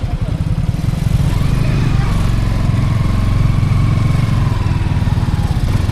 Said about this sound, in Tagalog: Pwede na ipark ang motor dito.